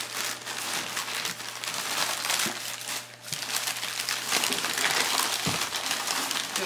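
Plastic bags are handled and crumpled amid household clutter, giving a close, continuous crinkling and rustling with scattered sharper crunches.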